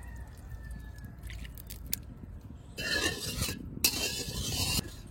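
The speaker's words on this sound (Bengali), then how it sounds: "কড়াই গরম হয়ে গেছে, এবার তেল দিয়ে দেবো" Oil hitting a hot wok bursts into a loud, bright sizzle partway through, surging in two strong waves after a quieter stretch of faint kitchen clatter, with no talking.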